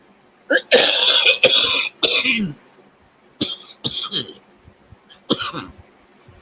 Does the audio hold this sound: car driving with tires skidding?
no